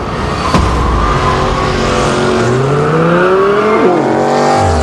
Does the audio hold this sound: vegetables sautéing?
no